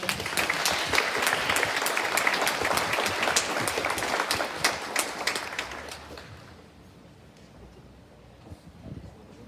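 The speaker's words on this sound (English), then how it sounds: "Let's give them all one last round of applause for them." Audience applause at a school Stage 3 presentation day for new band leaders, dense clapping from a seated crowd for about six seconds before it thins out and fades to faint room noise.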